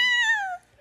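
A person imitates a contented cat's meow: a single close vocal meow that slides gently downward in pitch for about half a second, then fades into quiet.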